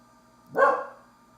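An indoor dog lets out one short, fairly loud bark at someone in the hallway, a single sharp burst that fades quickly against a quiet room.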